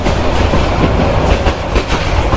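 Tista Express train rolling along rails, a steady loud rumble with rhythmic clickety-clack of wheels over track joints throughout, no voices.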